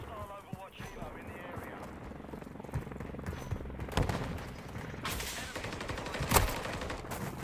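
Gunfire in a first-person shooter game, several sharp shots standing out at moderate loudness over a busy mix of game sounds, with a louder burst near the end.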